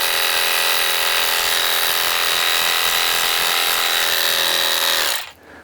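A pressure washer blasting a tight 0 degree jet onto stone, a loud, steady hissing roar held at full force before it cuts out abruptly near the end.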